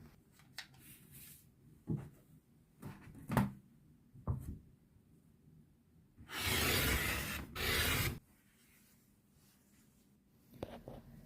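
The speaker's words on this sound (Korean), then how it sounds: "이제는 5cm 간격으로 자르겠습니다." Quilting fabric for a nine-patch block is cut into 5 cm strips: a few light taps and clicks, then a sustained two-second rasping cut, followed by more soft handling noises, quiet and close with no talk.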